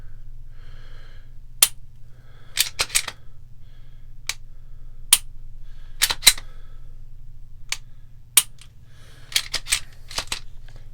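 Trigger reset clicks on a Canik TP9 Elite SC striker-fired pistol: sharp, isolated mechanical clicks, some in quick pairs, spaced irregularly over a low steady hum, close and clear with no talk.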